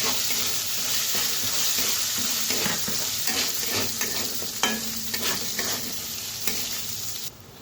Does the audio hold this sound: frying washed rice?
yes